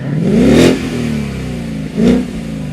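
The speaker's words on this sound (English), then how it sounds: "the Mustang was waiting with a purring engine, ready to burst into acceleration" A Ford Mustang engine at a horse racing derby track, loud and close, revving up in two surges with a rising whine and a rumbling idle between them.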